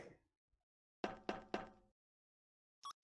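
Knocking on a door aboard an airship in a video game: three quick, solid raps in a row, fairly loud against quiet, followed a moment later by a short higher-pitched electronic tone.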